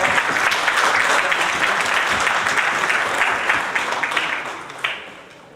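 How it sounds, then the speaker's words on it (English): Sustained applause from a conference audience fills the room at near-constant loudness, thinning slightly toward the end with a few last claps. "So I think a huge round of applause."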